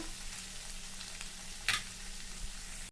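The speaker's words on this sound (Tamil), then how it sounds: "அடுப்பு வந்து மீடியம் ஃப்ளேமில் வச்சு நீங்கள் இந்த காயை வதக்கிங்க" Ivy gourd (kovakkai) sautés in a kadai over a medium flame, giving a steady, close sizzle throughout with one brief scrape of a spatula partway through and no talking.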